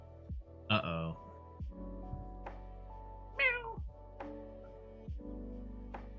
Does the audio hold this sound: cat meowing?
yes